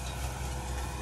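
A tractor running in third gear across a bean field, a brief, continuous engine drone with no other sounds.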